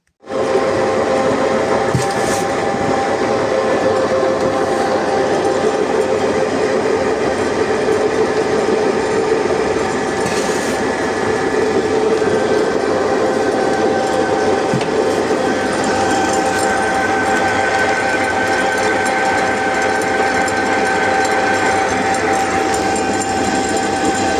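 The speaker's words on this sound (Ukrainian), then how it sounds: "все нормально, гранулятор вже працює." A feed pellet mill (granulator) runs steadily after being cleared and restarted, making dense hay-based pellets. It gives a loud, continuous mechanical rumble and clatter that holds unbroken throughout, with no talking.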